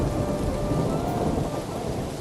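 Heavy rain pours down steadily during a thunderstorm around a mud-walled house with a leaking roof, with a low rumble of thunder underneath the dense hiss of rainfall.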